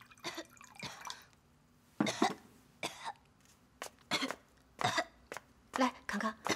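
A young child coughs repeatedly in short, harsh bursts spaced a second or so apart, close by in a quiet room at night, with some throat clearing between the coughs.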